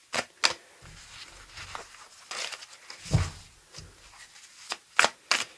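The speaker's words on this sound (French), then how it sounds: "On va faire une coupe et un tirage en 9." Arthurian tarot cards being cut and drawn for a nine-card spread, with soft shuffling, sliding and flicking of card stock, a few sharp snaps near the end, all close and quiet with no talking.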